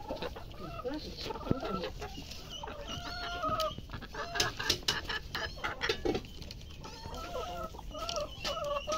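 Free-range chickens on a rural Vietnamese home vegetable farm cluck and call repeatedly at close to middling distance, overlapping in a busy chorus with faint background voices.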